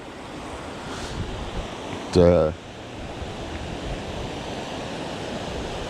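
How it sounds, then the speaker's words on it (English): The Mad River, swollen near flood level, rushes past in a steady broadband wash mixed with wind buffeting the mic, and one short spoken word cuts in partway through. "yeah, this is the Mad River"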